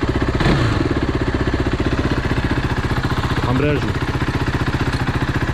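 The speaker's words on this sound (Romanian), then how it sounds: "Motorul a pornit imediat." A motorcycle engine idles close by right after starting, with a steady, even putter throughout and a single short exclamation from a voice early on.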